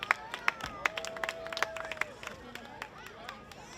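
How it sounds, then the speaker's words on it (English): Audience applause at an outdoor community reading event, with a few sharp, irregular claps standing out over a light crowd murmur and a fading whistle-like tone, thinning out after about two seconds. "Another round of applause for Councilman Kelly."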